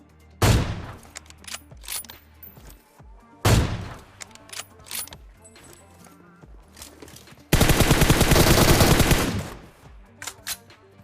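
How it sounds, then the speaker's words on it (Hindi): Gunfire in PUBG, including AWM sniper rifle shots: sharp loud single cracks followed by a dense rapid burst of automatic fire, with quieter shots between them. "तो देखना उसके क्या AWM का शॉट पड़ेगा।"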